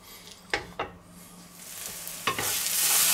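Ground meat sizzling in a hot pan, with a few sharp scrapes of stirring standing out over a steady frying hiss that swells toward the end; no voices.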